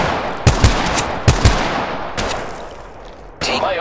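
Gunfire in the mobile battle royale Apex Legends Mobile: a few sharp bursts of two quick shots each, then scattered fainter reports, loud and close, with no talk.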